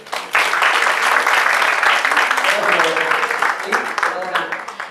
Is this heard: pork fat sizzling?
no